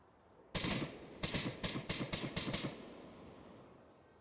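Gunshots in the VR shooter Onward during a competitive match: one sharp shot, a short pause, then a quick run of five or six shots, fairly close and loud, fading into quiet afterward.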